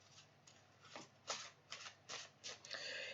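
Healing energy oracle cards being shuffled close up, several soft riffling bursts coming in quick succession with brief pauses, quiet and alone.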